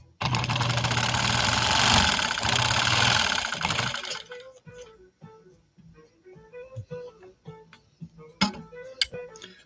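A motor-driven 1800 Willcox & Gibbs "Cora" sewing machine runs loud and steady, a dense rapid whir that cuts off, followed by scattered mechanical clicks and ticks.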